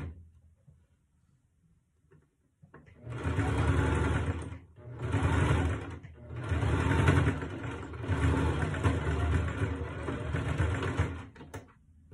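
A sewing machine stitches a fabric coin purse in several bursts of steady, loud whirring, with short pauses between runs and no talking.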